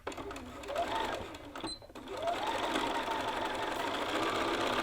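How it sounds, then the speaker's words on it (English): A sewing machine stitching a half-inch side seam, running in a rapid mechanical whirr that stops briefly for a back tack and then carries on steadily, close and fairly quiet. "we're going to head over to our machine and we're going to sew a 1/2 inch seam allowance from the top down"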